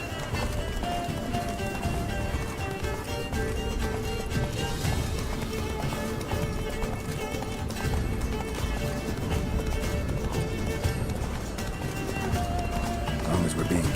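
Geralt's horse Roach gallops hard in The Witcher 3, hooves drumming in a dense, continuous rhythm that fills the scene, with voices talking over the running.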